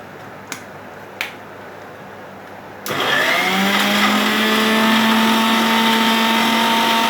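A mixer grinder starts abruptly after two small clicks and runs with a loud steady whirring whine, blending curd with crushed garlic, cumin, mustard seeds and curry leaves.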